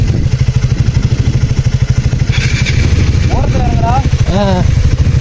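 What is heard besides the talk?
track motorbike ridden off-road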